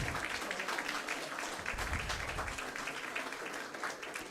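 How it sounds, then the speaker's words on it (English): Audience applause in a hall for the winners of a university moot court competition, a steady, dense wash of clapping that stays loud and even throughout with no voices over it. "Let's have a huge round of applause for them"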